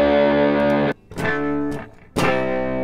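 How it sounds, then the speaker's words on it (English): Electric guitar played through a crunch amp preset in Logic Pro X, with two sustained overdriven chords separated by short gaps and a third chord ringing out at the end. "Then there's crunch ones."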